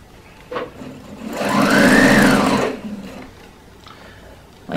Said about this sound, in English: And then I'm just going to start stitching.